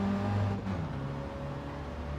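An engine in a driving video game, running through licence tests, revs loudly at first, then drops back to a steadier, quieter note as the revs change, with no speech over it.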